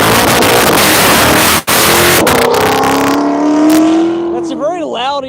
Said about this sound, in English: That is a very loud E-ray.